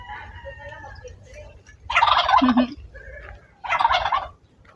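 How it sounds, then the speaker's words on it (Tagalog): Two loud bursts of turkey gobbling on a farm, rapid warbling calls a few seconds apart, close by over a low outdoor rumble. "may mga pabo"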